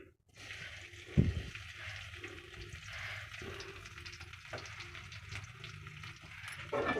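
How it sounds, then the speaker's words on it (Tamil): Crushed, peeled garlic cloves frying in hot sesame oil, a faint, steady close sizzle with a brief louder splash near the start, no voices. "முதல்ல பூண்டு எடுத்து வச்சுருக்கோம், நசுக்கி தோல் உரிச்சு, இதை நம்ம வறுத்து போகிறோம்"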